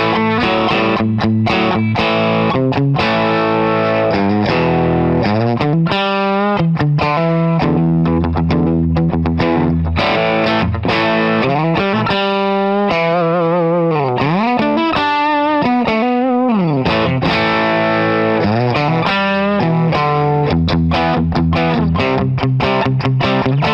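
FESLEY FST 400M Stratocaster electric guitar with ceramic pickups played loud through heavy distortion, choppy riffs and sustained bent notes filling the clip, with no voices.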